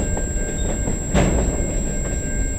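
Steady rumbling of a freight train rolling along rails on the Dundas Subdivision in London, Ontario, with a faint high whine and soft clacking over the track; continuous and fairly close, no voices.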